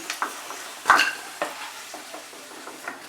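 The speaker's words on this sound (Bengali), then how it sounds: "লাল লাল করে আলুগুলোকে ভেজে নেব।" Potatoes fry in a pan with a soft, steady sizzle. Sharp clicks and scrapes of stirring come and go, with one louder clatter near the start and no voices.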